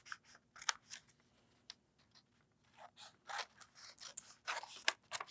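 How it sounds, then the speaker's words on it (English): Scissors snip out a piece of a paper topographic map of West Vancouver in a quiet room, with soft irregular cuts and paper rustles close by. "So right now, I'm cutting out of West Vancouver."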